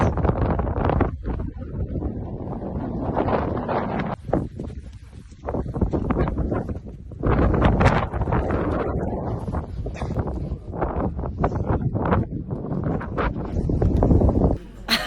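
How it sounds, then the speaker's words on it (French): Strong wind gusts roar on the high slopes of Mont Blanc between Tête Rousse and the Goûter, buffeting the microphone in loud, ragged surges that rise and fall throughout, with brief lulls between blasts. "il y avait énormément de vent"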